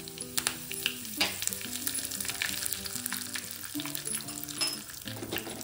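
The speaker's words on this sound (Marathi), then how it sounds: "आता मी तेल टाकते इथे, मोहरी टाकते, कढीपत्ता" Mustard seeds and curry leaves sizzling in hot oil for a tempering, a loud crackling fry with many sharp popping spatters over a steady hiss, faint background tones running underneath.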